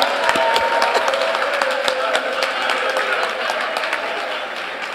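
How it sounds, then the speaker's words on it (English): Audience members at a church marriage teaching clapping together, a steady patter of many hands at moderate distance that slowly fades, with some voices mixed in. "it's only the brothers who are clapping"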